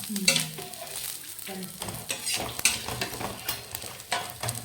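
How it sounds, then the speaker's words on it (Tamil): Small shallots and grated coconut fry in a little oil in a wok-like pan, with a continuous sizzle broken by a spatula's scraping stirs and clinks against the metal, close up and fairly loud. "இதை அப்படியே நம்ம இந்த வடச்சட்டியில் போட்டுக்கலாம் கொஞ்சம் எண்ணெய் இருக்குது"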